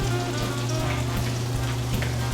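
Potato latkes fry in oil in a frying pan, a dense, continuous close-up sizzle with crackling pops and no voices.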